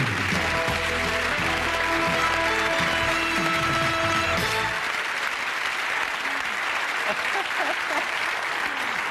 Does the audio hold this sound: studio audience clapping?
yes